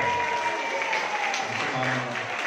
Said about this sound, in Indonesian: aplaus buat tim kita yang jauh-jauh dari PKU Pekanbaru Riau